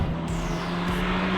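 A Peugeot 205 Turbo 16, a mid-engine turbocharged hatchback, held at full throttle in first gear, its engine a loud, steady broadband roar with a constant low hum throughout, no voices.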